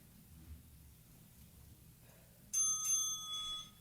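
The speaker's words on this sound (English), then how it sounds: "Can you guys hear the bell?" A bright ringing bell sounds twice near the end of a home workout interval, clear and sustained over a quiet room hum, after a stretch of near silence.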